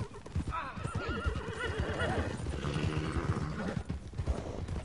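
A horse in the Red Dead Online video game clip-clops steadily along with hooves and whinnies in a busy game mix, with voices talking over it.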